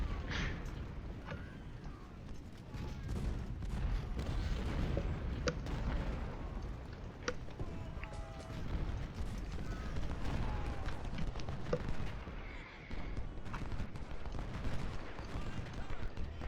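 Artillery pieces and howitzers firing during a Civil War battle in the strategy game Ultimate General: Civil War, a steady barrage of booms and crackling musketry with distant rumbling explosions throughout.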